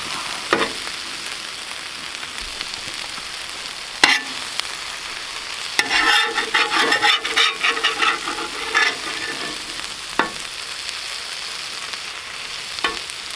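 Fajitas sizzle on a Vevor flat top griddle as tortillas are folded over and warmed. A steady hiss runs under sharp spatula taps and scrapes, with a busier burst of crackling in the middle.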